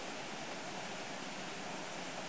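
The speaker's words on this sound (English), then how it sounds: "Just hear the trickling of the water" Steady broadband rush of flowing water, a continuous trickling stream with no voices, fairly soft and even throughout.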